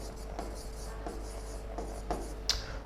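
Marker or chalk strokes scratch a word onto a board in a classroom, soft rubbing squeaks in short repeated strokes over a steady low hum.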